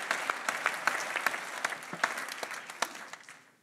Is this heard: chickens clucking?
no